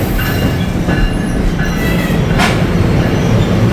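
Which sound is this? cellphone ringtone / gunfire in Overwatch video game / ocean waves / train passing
train passing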